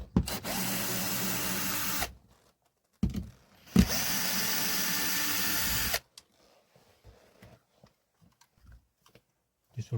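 A power drill or screwdriver backing screws out of an old motorhome solar panel controller, two loud close whirring bursts of a few seconds each separated by a brief pause, followed by quiet scattered handling clicks.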